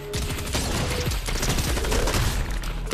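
Rapid bursts of gunfire from the video game Fortnite, a dense continuous volley of shots that stays loud and close for the full few seconds with no talking over it.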